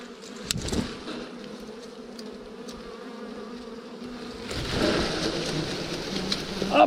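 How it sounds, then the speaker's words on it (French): A swarm of honeybees buzzes steadily as it is shaken from brambles, the dense hum swelling louder after a rustling shake, close and continuous. "Un bon paquet d'abeilles."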